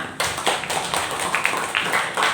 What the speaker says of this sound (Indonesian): berikan dulu aplaus untuk orang yang bertanya